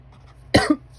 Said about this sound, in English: I know I want to cough so bad